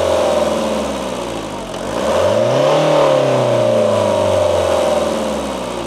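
A Mercedes W201 engine revs up with a rising mid-range drone, then hangs high and sinks only slowly back toward idle, loud and close with no talking.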